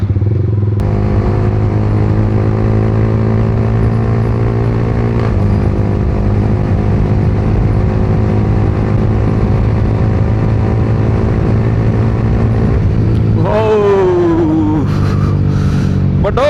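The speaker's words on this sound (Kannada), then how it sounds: "ಇದು ಎಕ್ಸಾಸ್ಟು ಅಂತ ಸಿಕ್ಕಾಪಟ್ಟೆ ಲೌಡ್ ಆಯ್ತು ಗುರು ಎಕ್ಸಾಸ್ಟು." Loud, steady exhaust drone of a 2025 Yamaha R15M motorcycle at high speed, sustained and close throughout, with a sharp rising rev near the end; wind roar blends in.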